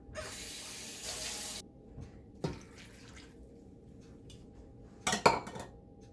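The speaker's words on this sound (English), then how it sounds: "now that the apples are all cubed up, I need to add 1 cup of water" A cup of water poured into a pot of cubed apples in a home kitchen, a brief rushing splash up close, followed by quiet clinks of the pot and utensils, with no talking.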